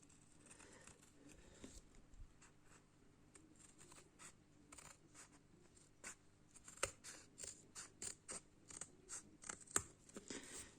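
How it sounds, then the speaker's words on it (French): Scissors snip through a cardboard toilet paper roll to trim the excess edge for a bookmark craft, giving a run of sharp, close clicks that quicken and grow louder toward the end, with no talking. "j'ai du cartonnage qui dépasse. Donc, je vais couper."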